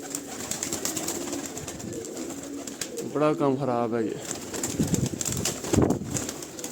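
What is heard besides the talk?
pigeons cooing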